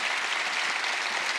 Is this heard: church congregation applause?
yes